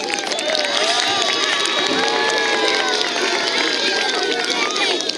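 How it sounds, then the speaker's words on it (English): Applause and cheering fill a school assembly hall, with children shouting and a dense crowd roar running steadily through the whole stretch. "One more round of applause for K2."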